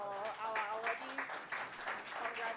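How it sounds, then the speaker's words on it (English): An award ceremony audience applauds climate fellowship and grant awardees with scattered clapping and cheering voices mixed in, fairly quiet and continuous. "one more round of applause for our awardees"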